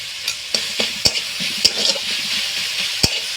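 Grated ginger and garlic fry with tomato and salt in a pan for potato parota masala. A bright, steady sizzle runs under repeated sharp clicks and scrapes from the stirring spoon, close and fairly loud, with no talking.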